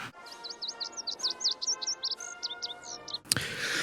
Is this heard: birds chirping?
yes